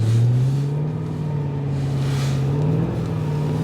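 A car with all-wheel drive on poor tires spins and slides in deep snow during a severe winter storm in a neighborhood, its engine droning steadily and loudly at high revs throughout.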